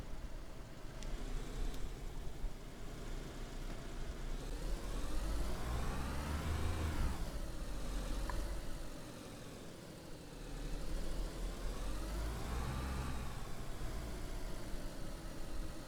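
A car in a video game drives along with a steady engine drone that rises and falls through revs, easing down briefly as it pulls in to park, then carrying on at a moderate, continuous level.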